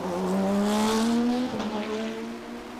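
Race cars in an International GT sprint race, an Audi R8 among them, roar off at the green flag start on the front straight at Road Atlanta, a loud layered engine drone climbing in pitch as one car blasts close past.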